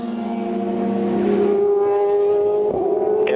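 Race cars in the 2014 FIA WEC 6 Hours of São Paulo, one locking up as it brakes into turn 1: a loud, steady engine drone with strong harmonics, pitch sliding down and shifting near the end.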